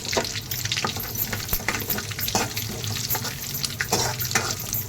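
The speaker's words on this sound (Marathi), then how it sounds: "त्याच्यामध्ये आपण कढीपत्ता टाकलेला आहे अर्धा चमचा जिरा टाकलेला आहे त्याला चांगला गरम करून घेऊया" Curry leaves and half a spoon of cumin sizzle in hot oil in a pan, a busy crackling hiss with intermittent stirring and bubbling, close and moderately loud, with no talking.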